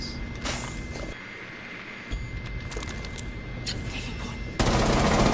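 Rapid gunfire from the video game Rainbow Six Siege crackles in dense bursts throughout, with a louder, heavier volley at the end.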